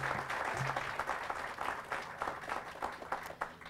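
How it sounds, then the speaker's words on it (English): A round of applause from an audience at a public plans announcement for Riverfront East, faint and distant-sounding, with uneven clapping swelling and dipping over a few seconds. "please just join me in one additional round of applause for everyone here"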